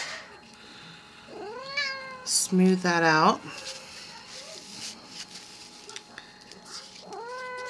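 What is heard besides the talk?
cat meowing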